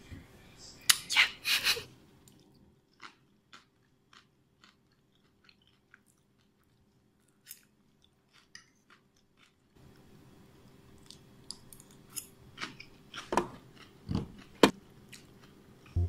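Someone eating a sugary snack: a burst of crunchy bites near the start, then scattered small chewing and mouth clicks, with another cluster of crisp crunches toward the end, close up and fairly quiet.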